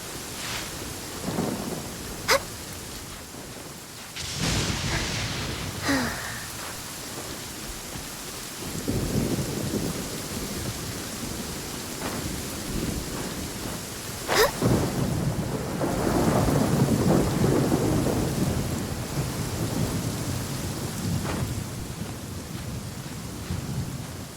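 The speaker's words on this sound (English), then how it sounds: "I love listening to the rain from the courtyard" Steady rain falls in a video game courtyard in Genshin Impact, a dense hiss of drops on stone broken by several loud, sharp thunder cracks and rolling rumbles, with no voices.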